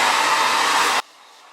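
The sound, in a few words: blow dryer drying a lace wig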